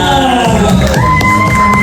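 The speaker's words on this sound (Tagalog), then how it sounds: "Palakpakan naman na may kasamang sigawan!" A crowd at a debut celebration cheers, whoops and shouts together in a loud, steady roar over a short stretch, with musical tones running underneath.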